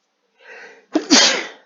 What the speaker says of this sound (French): Désolé, je viens d'éternuer.